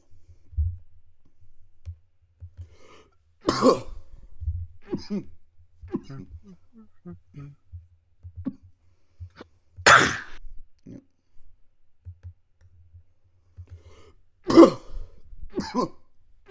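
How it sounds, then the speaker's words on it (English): Several sharp coughs and throat clears in bursts, separated by quiet pauses with faint rustling and clicks, close to the microphone. "We're gonna make each other cough like this."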